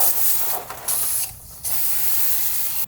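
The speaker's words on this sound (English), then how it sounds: "we're going to hit it with the tire cleaner anyway." Tire cleaner sprayed onto new tires on Volk 21A wheels, several sharp hissing bursts from a spray bottle in quick succession, separated by brief pauses and trigger clicks, close and loud with no talking.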